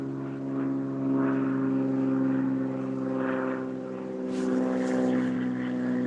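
A single-engine Cessna plane drones overhead with a steady propeller hum that swells and fades gently, loud and continuous, with a faint brief rustle near the end.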